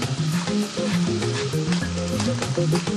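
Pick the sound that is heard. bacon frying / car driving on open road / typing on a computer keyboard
bacon frying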